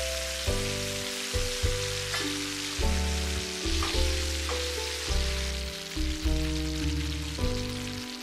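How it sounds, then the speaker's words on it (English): Onion and tomato curry sizzles hard in very hot oil for a paneer and cauliflower masala, a loud, steady crackling fry with bursts of spitting and stirring, no voices over it. "in the very hot oil add the onion and tomato curry first"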